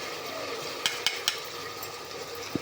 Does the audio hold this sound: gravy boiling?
yes